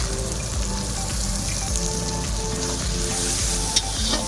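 Ground tomato fries with onion and garlic in a pan for a Bengali katla fish kalia, giving a loud steady close sizzle with occasional stirring scrapes and no talk.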